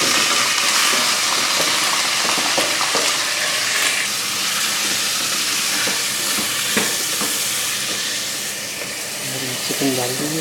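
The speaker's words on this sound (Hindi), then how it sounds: "चिकन डाल दीजिए तो अदरक लहसुन और घी में अच्छी तरह से भूनना ताकि ये हल्का ब्राउन हो जाए।" Chicken fries in ghee with ginger and garlic, giving a loud, steady sizzle close by with occasional stirring scrapes, and a voice talks over it.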